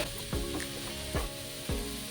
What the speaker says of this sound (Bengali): গাজরগুলোকে ভালোভাবে ভাজতে হবে।